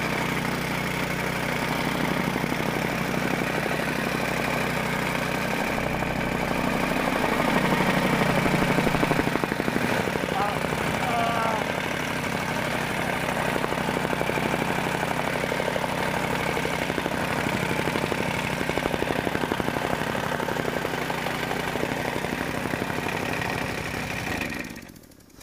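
A tractor engine runs steadily at high throttle in a field of soft soil, a continuous loud mechanical drone that holds its level almost throughout before cutting off abruptly at the very end.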